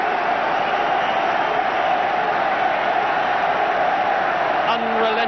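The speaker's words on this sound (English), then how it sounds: "Unrelenting support from the crowd." A rugby stadium crowd at an England versus All Blacks match in 1983 roars continuously in support of England, a dense sustained cheer with a commentator talking over it.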